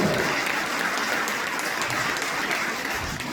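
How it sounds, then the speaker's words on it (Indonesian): A church congregation at a revival service in Jayapura breaks into enthusiastic applause, a dense, even wash of many clapping hands sustained throughout, loud and close. "Beri tepuk tangan yang meriah."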